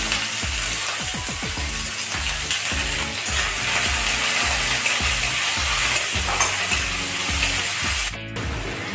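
Chopped onion, green chilli and garlic frying in hot mustard oil in a kadai, a steady loud sizzle throughout with scraping, stirring clatter over it, no talk.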